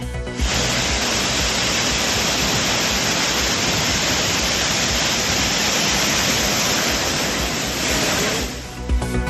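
Floodwater thunders down the Courtallam waterfalls in Tamil Nadu, a loud, dense, unbroken roar of crashing water and spray that fills the whole stretch evenly and fades slightly at the very end.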